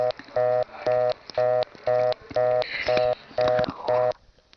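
Rotary dial pulses on a 1976 step-by-step telephone exchange in New Tripoli, Pennsylvania: eight to nine evenly spaced bursts of buzzing relay clicks, each about a third of a second long, each set apart by a short gap, close and clear, with no talking.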